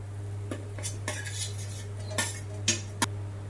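Potatoes go into a cooking pan for a fasting-day meal, heard as scattered metallic clinks and scrapes of a utensil against the pan over a steady low hum, with no sizzle.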